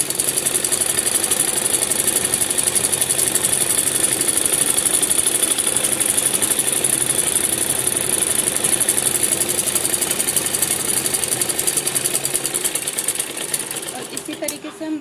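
A sewing machine stitches a straight seam along a salwar hem. Its needle chatters in a fast, even, loud mechanical run for the whole stretch, then slows and eases off at the very end.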